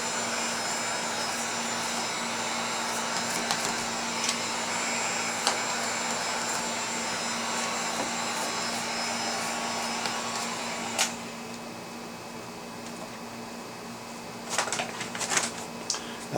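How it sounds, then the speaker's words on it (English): A heat gun blows hot air onto window tint film on the rear window of a 2017 Chevy Cruze, held three to four inches away: a steady, airy, droning whoosh throughout, with a few faint clicks near the end. "I do have the heat gun about maybe 3 inches, 4 inches away"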